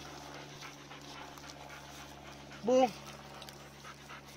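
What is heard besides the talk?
dog panting and whimpering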